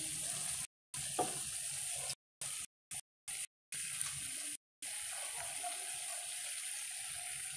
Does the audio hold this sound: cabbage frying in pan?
yes